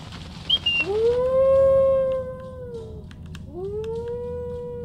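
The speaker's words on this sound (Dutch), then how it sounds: "ik druk op blaffen" In the Bilkins' Folly video game, an animal lets out two long, drawn-out howling calls. The first rises and holds for about two seconds, and a shorter one follows, both loud and clear with no talking.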